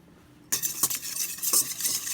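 Ground mustard being stirred into a mixture with a utensil, scraping and clinking against the bowl in a quick, steady rhythm after a brief silence, close and fairly loud.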